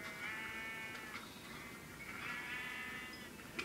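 Sheep bleating in the Minecraft video game: two faint, drawn-out nasal bleats, one after another, with a quiet click at the end and no talking.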